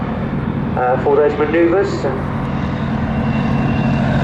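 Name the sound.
aerobatic propeller aircraft engine at an airshow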